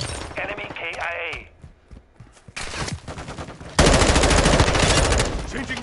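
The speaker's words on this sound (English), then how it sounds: "Taking effective fire." Machine gun fire in a military shooter video game, sustained rapid bursts that grow louder and more continuous toward the end, mixed with voices and game chatter.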